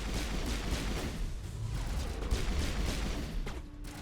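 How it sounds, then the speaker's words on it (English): A grenade explosion in the Mass Effect video game, a loud, dense roaring blast that fills the whole stretch and slowly rumbles away. "Sneak grenade."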